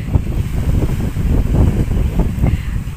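Sea waves and wind on a beach in Turkey, a steady loud rush of surf and gusting wind buffeting the microphone throughout, with no one speaking.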